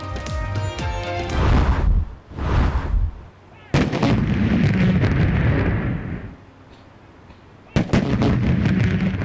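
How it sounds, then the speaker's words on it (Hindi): A ceremonial cannon salute for Eid Milad-un-Nabi in Pakistan, with several heavy booming blasts spaced seconds apart, each followed by a long rolling echo, loud and outdoors. "ईद मिलाद-उन-नबी पर इस्लामाबाद में 31 और सूबों में 21-21 तोपों की सलामी।"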